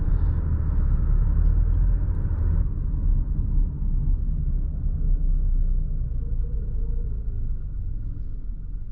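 A 2023 Nissan Rogue SV with a 3-cylinder turbo and CVT accelerating, heard as a low, steady engine and road rumble from inside the cabin, with a smooth drone that eases slightly.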